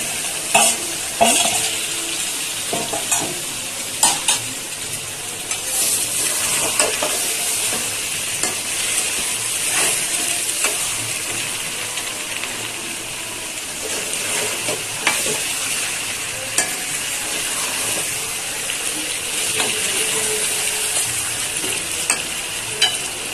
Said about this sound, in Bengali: এবার আলু আর মাংস একসাথে দিয়ে দিচ্ছি।